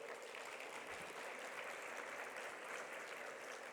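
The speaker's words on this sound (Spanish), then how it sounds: "Lo recibimos con un aplauso," A university round-table audience welcomes a speaker with sustained applause, a dense, even wash of many hands clapping together, distant and fairly faint, with no break.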